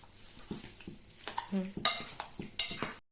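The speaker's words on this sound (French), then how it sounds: "Je rajoute ma fécule de maïs. Et puis je vais remuer tout ça." A spoon stirs chicken gyoza filling with cornstarch in a bowl, soft wet scraping and a couple of sharper clinks against the side, close and fairly quiet.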